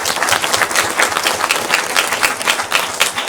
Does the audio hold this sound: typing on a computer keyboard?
no